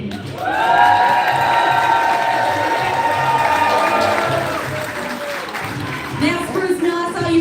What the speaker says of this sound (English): Give it up for Wild West Muldoon.